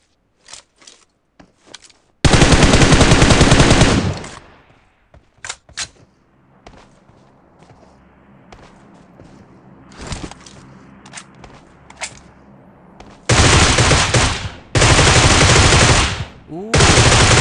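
Gunfire from the PUBG Mobile video game: scattered single shots, then long sustained loud automatic bursts, one at the start and two near the end, with quieter footsteps and movement sounds between them.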